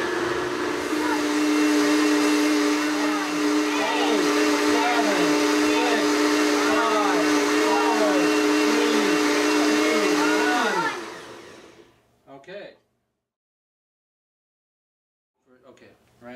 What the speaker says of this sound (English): This blender will blend everything.